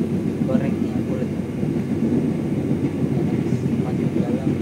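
Steady low rolling rumble of the KA Madiun Jaya train in motion, heard from inside a modified new-generation executive carriage, with voices talking over it throughout.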